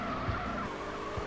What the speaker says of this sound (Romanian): facem drifturi la plajă cu mașina, adică cu limuzină